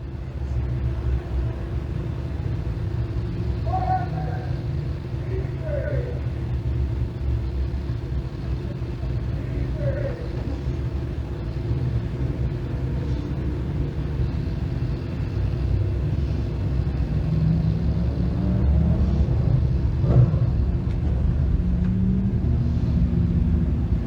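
Dirtcar Sportsman race cars idling and rumbling at Can-Am Speedway between heat races, a steady low engine drone at some distance with faint announcer talk over it.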